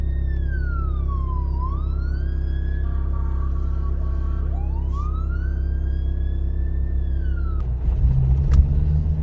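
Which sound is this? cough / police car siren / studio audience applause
police car siren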